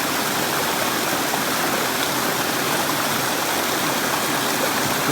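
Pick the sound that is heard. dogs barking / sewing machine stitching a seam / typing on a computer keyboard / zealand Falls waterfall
zealand Falls waterfall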